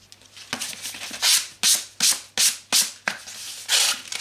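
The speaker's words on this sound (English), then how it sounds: "Going over it with my finest sandpaper." Fine sandpaper is worked over a foam weapon in about eight steady, close rasping strokes, each a short scratchy swipe with brief pauses between, and no talking.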